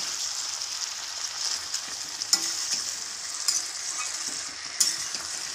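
Finely chopped tomatoes are stirred and fried in a pan for a potato and tomato curry, with a soft, steady sizzle broken by three sharp clicks of a spoon against the pan.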